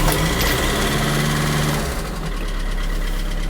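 An engine fires up on the ignition and settles into a loud, steady, knocking running note close by, with a slight drop in tone partway through and no talk.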